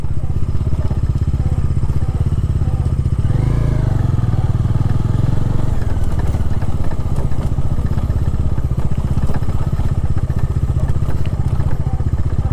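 A motorcycle rattles and clatters steadily over a rough dirt road on a coastal ride, engine droning loud and close throughout with scattered knocks and thumps, no voices.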